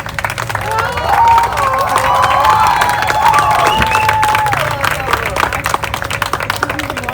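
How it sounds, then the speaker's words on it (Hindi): Lively crowd applause and cheering for Imran Ganchi on stage, with rapid clapping, shouts and whistles. The noise swells loudest near the middle and carries on steadily to the end. "आपकी भरपूर तालियों में इमरान गांची"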